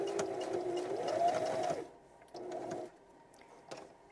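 A sewing machine runs a quarter-inch seam around a fabric pen pouch for a composition notebook. A steady mechanical hum runs close and moderately loud, then two shorter stitching bursts follow with small clicks between them.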